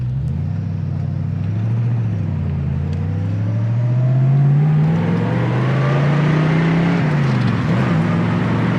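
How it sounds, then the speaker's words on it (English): A 1966 Ford Mustang with dual exhaust accelerating from a stop, its deep engine note rising steadily in pitch, dipping briefly at a gear change, then climbing again, loud and close from inside the car. "Dual exhaust sounds awesome."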